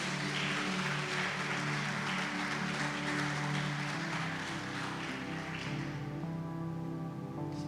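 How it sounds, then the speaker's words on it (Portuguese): Congregation at a church service clapping for Jesus, a broad wash of applause over sustained organ-like tones and music, loud and continuous, easing slightly toward the end. "Você pode dar uma salva de palmas para Jesus?"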